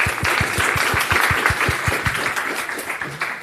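Audience applause after a keynote talk at an AI conference: steady, dense clapping fills the room at even loudness for the full stretch, fading slightly toward the end.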